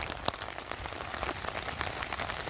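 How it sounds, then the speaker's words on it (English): Steady rain patters on a camp shelter during a backpacking hog-scouting trip on a wildlife management area, a dense continuous hiss with scattered sharper drops, close and fairly quiet, with no talking. "And it was raining pretty good."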